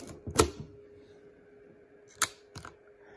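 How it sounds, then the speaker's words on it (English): Shutter of a Yashica Electro 35 GSN rangefinder camera with an f/1.7 lens firing: one crisp mechanical click, then a close pair of clicks a couple of seconds later, near and quiet in a still room. "that's the camera functioning"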